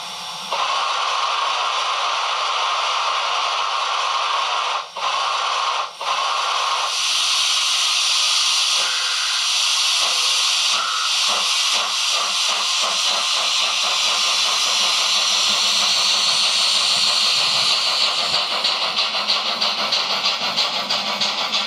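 An ESU BR 078 model steam locomotive pulls away with a loud, continuous steam hiss, then rhythmic chuffing that quickens steadily toward the end, close and without talk.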